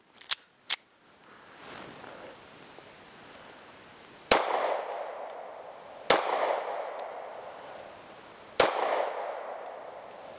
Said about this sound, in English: Let's see how we do with our first 3 shots.